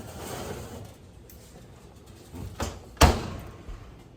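An oven door swings shut in a kitchen with a single loud thud, preceded by a softer knock and some faint handling clatter against quiet room noise.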